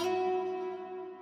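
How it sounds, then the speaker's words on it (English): A nylon-string guitar lick from the FL Studio Flex Ace Nylon Light preset, a plucked note ringing out with steady sustained tones that slowly fade, heard alone and fairly quiet. "I did add this guitar lick from the Flex Ace Nylon Light guitar"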